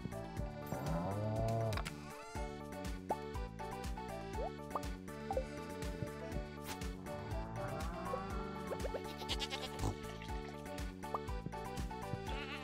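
Farm animal calls from the Stardew Valley video game, with sheep-like bleats over a busy layered game soundtrack, steady and fairly loud throughout.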